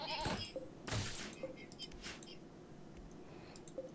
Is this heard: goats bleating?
yes